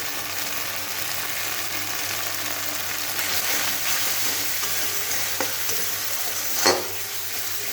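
Eggs fry in a pan with salt and turmeric, a steady even sizzle holding throughout with a brief scrape or stir near the end.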